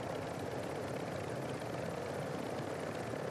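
Helicopter in Call of Duty Warzone, its steady rotor drone filling the whole stretch loud and constant, with no break or change.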